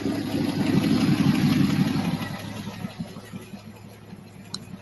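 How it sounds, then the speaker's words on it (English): A car engine idles with a slight exhaust leak, giving a low, rough, steady rumble that fades a little toward the end. "Got a little bit of exhaust leak."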